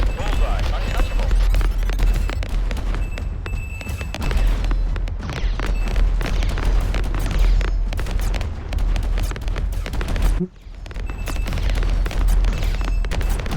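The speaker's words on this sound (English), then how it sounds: "my projectiles are firing so fast" Rapid projectile fire in the space shooter Galactic Outlaws, a dense, continuous barrage of blasts and booms running almost without pause, with a brief drop near the end, mixed with game sounds and some talk.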